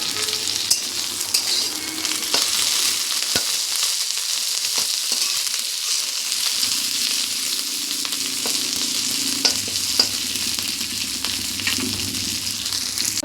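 Neem leaves frying in hot oil in a pan, a steady loud sizzle with scraping stirs and occasional clinks of the spatula, continuous and close with no talking.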